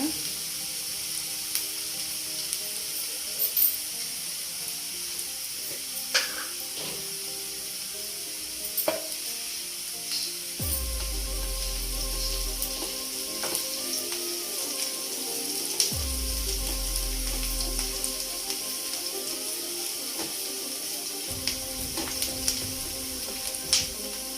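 Mushrooms for a curry fry in a pan until reddish, giving a soft, steady sizzle with occasional clinks and scrapes of stirring, and brief louder surges as food is moved around.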